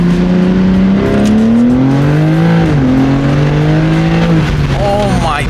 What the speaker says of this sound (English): you might want to race the Lambo versus the G80